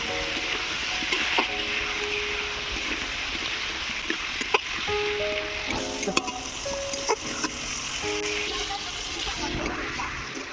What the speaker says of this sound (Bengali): আলুটাকে আমি ভালো করে কষিয়ে নেব।